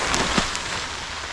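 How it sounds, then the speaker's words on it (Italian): Rain beginning to fall outdoors at a motorbike meetup, a steady broadband hiss of drops with a few louder patters, close and continuous with no talk. "sta iniziando a piovere e qui si copre tutto"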